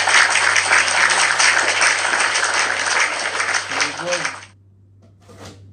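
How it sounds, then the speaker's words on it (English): A group of people, likely a class, breaks into loud sustained applause lasting about four seconds before it stops abruptly, with a voice heard briefly near the end. "let's clap for both Sir Richie and M&M."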